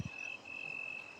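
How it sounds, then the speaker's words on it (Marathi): A steady, high-pitched cricket trill runs through the whole stretch, continuous and fairly faint, with no voices, in a village in the evening. "अतिशय सुंदर अशी रातकिड्याचा आवाज येत असतो संध्याकाळी"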